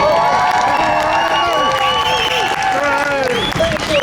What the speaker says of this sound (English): So we respect and we applaud Dr. Wilman for standing up here today.